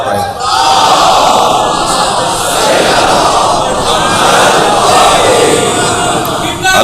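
A large crowd loudly chants salawat in unison at a religious gathering, a dense, sustained roar of many voices.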